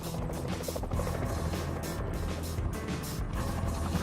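A gas turbine helicopter roars loudly and steadily overhead, its rotor chop pulsing in a fast regular rhythm over the dense whine of the jet engine, with no voices.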